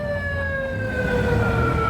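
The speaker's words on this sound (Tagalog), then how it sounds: "Bosa, ambulansya na nasa likod mo" Ambulance siren wailing steadily during the closing stretch of a bicycle race, loud and continuous over low road rumble, with a slowly gliding pitch.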